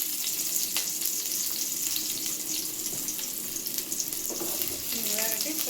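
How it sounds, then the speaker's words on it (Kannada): Potatoes frying in oil for a North Karnataka-style aloo dum biryani, a steady close crackling sizzle throughout with a few faint clinks and scrapes. "ಆಲೂಗಡ್ಡಿನ ಫ್ರೈ ಮಾಡ್ಕೊಳ್ಳೋಣ್ರಿ"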